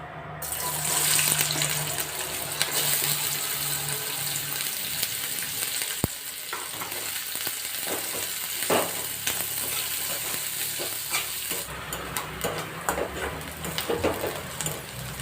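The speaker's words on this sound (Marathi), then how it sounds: "आता तेल गरम झालेलं आहे कांदा घालूया" Chopped onion sizzles in hot oil in a wok (kadhai), a continuous close crackling hiss with occasional stirring clatters, steady throughout and free of speech.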